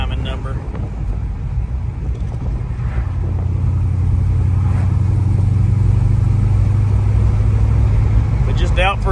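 A Chevrolet S10 drag truck with a nitrous setup drones steadily while cruising, its low engine hum strengthening midway and holding, with a person's voice talking over it.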